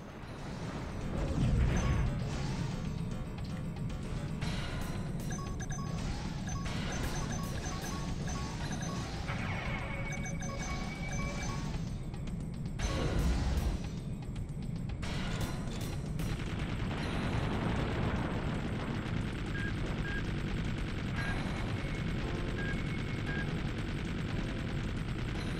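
Aerial strafing in the Love & Destroy game, a long, steady wash of continuous gunfire and rumbling explosions, with a few heavier crashing impacts standing out from the constant din.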